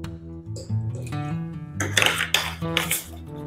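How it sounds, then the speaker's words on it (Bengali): A spatula stirs salt and turmeric into a metal pressure cooker, making bright metallic scraping and clattering in the second half, with tonal background music throughout. "তারপরে একটা খুন্তি দিয়ে একটু ভালো করে মিক্স করে দিতে হবে নুন আর হলুদটাকে"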